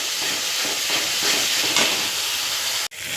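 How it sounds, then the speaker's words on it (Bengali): Spice paste for a tangra fish tel jhal, with Kashmiri red chilli powder, frying in hot oil, giving a steady, loud broadband sizzle and hiss that runs continuously before cutting off sharply near the end. "এবারে আমি মশলা খুব ভালো করে কষিয়ে নেব"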